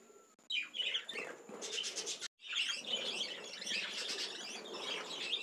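Budgerigars in an aviary chirp and warble busily in overlapping bursts, close and lively, with a brief near-silent gap partway through before the chatter resumes.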